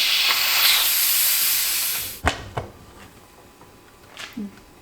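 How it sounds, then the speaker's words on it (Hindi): A pressure cooker of beef yakhni has its lid opened after the flame is turned off, letting out a loud, close rush of hissing steam that fades into a few clicks and faint kitchen handling sounds. "मैंने फ्लेम ऑफ कर दिया है और अब मैं इसका ढक्कन खोलने लगी हूँ"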